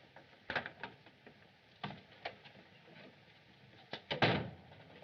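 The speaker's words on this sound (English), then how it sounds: "Open the door." A door is opened in a 1939 Charlie Chan film scene, with scattered clicks, knocks and rattling latch or lock noises, several sharp bumps and a louder clatter near the end, no speech.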